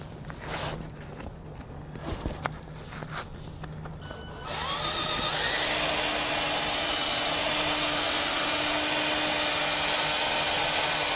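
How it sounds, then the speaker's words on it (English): A power drill fitted with a buffing pad polishes a car headlight with compound, running as a loud steady whirring drone that starts about four seconds in and continues to the end, after quieter handling noises. "Throw on a buffing pad, add a little bit of compound to the pad."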